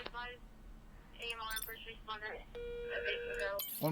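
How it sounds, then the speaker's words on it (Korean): Incoming-call ringtone in the emergency dispatcher game 112 Operator, an electronic repeating chime that rises to a sustained tone, heard alongside speech. "전화 왔네요?"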